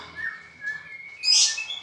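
A female white-rumped shama (murai batu) at a bird dealer's shop gives thin, high whistled chirps and a brighter sharp call near the end, close and clear with no voices.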